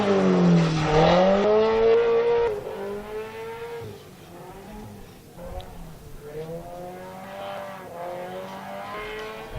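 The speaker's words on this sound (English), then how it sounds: "Steve and his Subaru BRZ just looking great out there." A Subaru BRZ drift car on a practice run at a drift event, its engine revving hard and loud at first, then wailing through shifting pitch as it slides past at a distance, steady and continuous.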